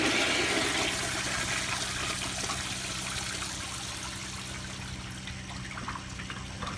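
An American Standard Afwall toilet flushing, a loud broad rush of water that gradually tapers into a softer swirling drain and trickle, alone with no talk.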